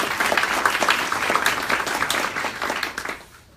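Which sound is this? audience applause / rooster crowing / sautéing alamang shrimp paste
audience applause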